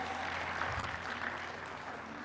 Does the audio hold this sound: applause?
yes